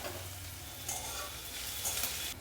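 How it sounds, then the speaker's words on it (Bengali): Onion, whole garlic cloves and a dried red chilli sizzle and fry steadily in a pan, a continuous close, moderately loud crackle with light stirring scrapes, no talking. "পেঁয়াজের সঙ্গে দিয়ে দেবো কয়েকটা গোটা রসুন আর দিয়ে দেবো একটা শুকনো লঙ্কা"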